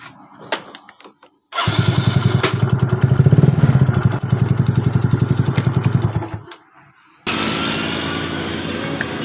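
A Yamaha Mio Soul scooter cranks and starts with a rough, rapid mechanical clatter from its starter area, runs a few seconds, cuts out briefly, then restarts into a steady rattling idle, loud and close.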